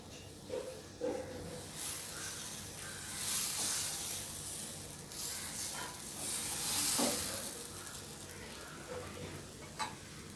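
Fermented dosa batter sizzles and hisses steadily on a hot pan over high flame, a soft, continuous frying crackle that swells and fades in waves, close by with no talking.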